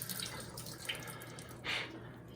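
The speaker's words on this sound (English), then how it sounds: "I just get as much liquid out as I can." Liquid drains and drips from jarred jalapeños into a sink, a few faint splashes and trickles over a quiet kitchen hum.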